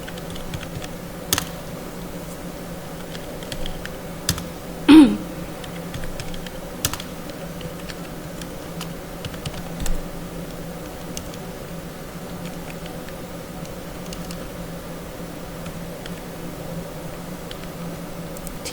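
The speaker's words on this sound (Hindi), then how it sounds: "तो मैंने इस तरह से यहाँ पे कुछ नाम टाइप कर दिया" Names are typed into an Excel spreadsheet on a computer keyboard, giving sparse, scattered key clicks and a few louder taps over a steady background hiss.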